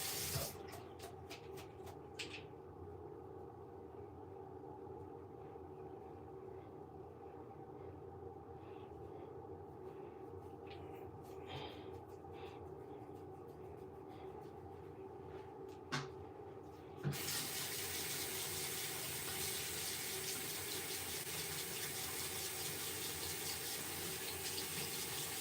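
Tap water runs steadily into a sink while makeup brushes are washed, a continuous splashing hiss that grows louder and brighter near the end as the flow increases.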